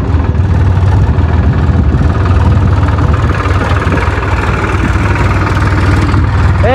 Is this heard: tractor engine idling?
yes